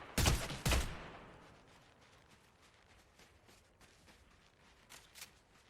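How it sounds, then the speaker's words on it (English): Two loud, sharp sniper rifle shots in a video game, fired close together near the start, followed by fading echo and fainter distant reports later on. "So I hear the sniper shots. I know somebody's sniping us"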